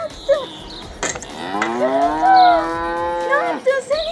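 A cow moos once in a long, loud, drawn-out call lasting about two seconds, with a few brief thumps and noises before and after it.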